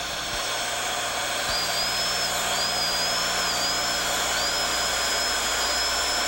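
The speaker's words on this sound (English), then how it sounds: "Reposition the burr to bevel the remaining portions of the occlusolingual line angle." A dental bur in a high-speed handpiece bevels a stainless steel crown, giving a steady, close, high-pitched whine that wavers slightly in pitch throughout over a constant background hum, with no talking.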